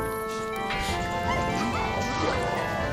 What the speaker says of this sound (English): Wait, why is there a small doggy?